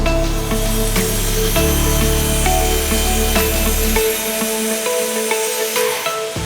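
A Type A 1200 Z horizontal band saw cuts through wood in a sawmill, a loud close steady machine whine with low motor rumble that drops away midway, leaving the ringing blade and thin tonal hum.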